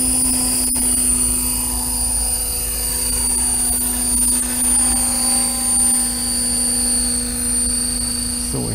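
Rotor aircraft lifting off and climbing, a steady loud whine and drone with strong sustained tones and a low throb, holding close and constant throughout with no talk.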